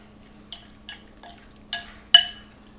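Chimichurri sauce being stirred into salmon in a bowl, five short wet scraping and clinking strokes spaced about half a second apart, the last two louder, close by over a faint steady hum.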